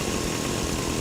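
A loud, continuous chainsaw buzz from a battle royale video game's Halloween season runs steadily throughout, harsh and close, with no voices.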